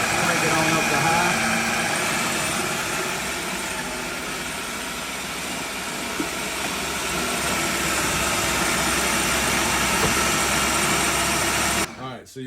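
High-speed blender whirring steadily while churning churro nice cream, a loud, continuous motor drone that holds throughout and cuts off abruptly at the very end.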